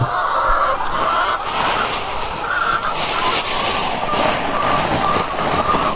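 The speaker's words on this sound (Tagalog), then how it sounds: "Gutom na mga manok." Hungry chickens cluck steadily together, a dense, continuous flock sound at moderate level with no clear pauses across the stretch.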